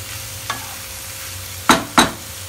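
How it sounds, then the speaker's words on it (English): Soya chunks fry in a pan with salt and tomato ketchup under a steady low sizzle, while a spoon gives one faint scrape and then two sharp, close stirring scrapes in quick succession. "They have been frying for another 2 to 3 minutes now."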